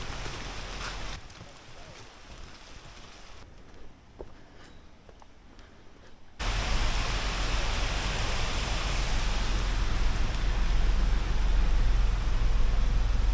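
Light rain falls on a forest walking trail in the rainforest near Cairns: a soft, steady hiss that swells noticeably louder and denser about halfway through, with no voices.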